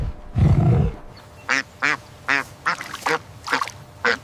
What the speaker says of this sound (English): This is a duck.